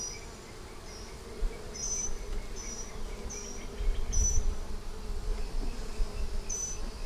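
Honey bees hum steadily around a hive during a big swarm, a dense continuous insect drone with occasional sharper buzzes passing close by.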